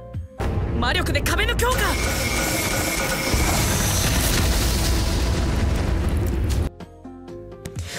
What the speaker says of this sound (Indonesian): Ketika tombak-tombak api menghantam, udara memanas dengan ledakan keras.